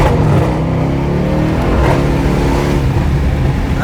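A car accelerates hard at a car meet in a Silicon Valley garage, a loud, close engine roar that builds and holds for a few seconds with no talking.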